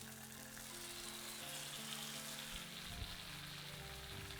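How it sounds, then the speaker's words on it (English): Chicken filets pan frying on a stovetop, a soft, steady sizzle hissing evenly throughout with a low hum of the kitchen beneath and a faint knock near the middle. "We're gonna pan fry these on both sides"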